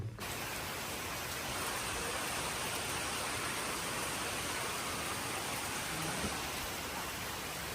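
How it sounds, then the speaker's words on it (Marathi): Heavy monsoon rain pours steadily outdoors, a dense, unbroken hiss of falling water holding a constant level throughout with no talk. "किती पाऊस येतो रे बापरे"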